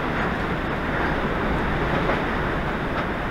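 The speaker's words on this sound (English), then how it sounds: "I don't know if you can hear that wind on the video," Strong outdoor wind buffeting the microphone as a steady, dense roar with no letup, loud and close, with no voices.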